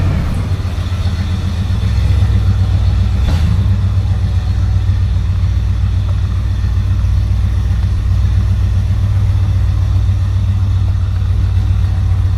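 A 1970 Buick Electra 225 with a 455 engine on a test drive, a steady low engine rumble with road noise inside the car, constant and fairly loud throughout.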